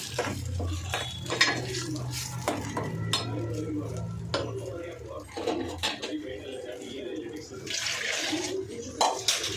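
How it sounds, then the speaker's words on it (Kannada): A spoon scrapes and clinks against a pan while ground moong dal and coconut mixture is stirred in ghee for a sweet payasa, with steady metallic scraping and a speaking voice over parts of it. "ಇದನ್ನು ಚೆನ್ನಾಗಿ ಮಿಕ್ಸ್ ಮಾಡ್ಕೋಬೇಕು ತುಪ್ಪದ ಜೊತೆ ಚೆನ್ನಾಗಿ ಮಿಕ್ಸ್ ಆಗಬೇಕು"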